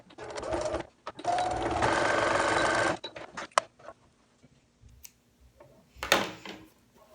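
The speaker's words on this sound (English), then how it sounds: "I'm gonna stick it in the sewing machine" A sewing machine stitching a fabric face mask runs in two bursts, a short one then a longer steady stitching run, followed by quiet clicks and fabric handling.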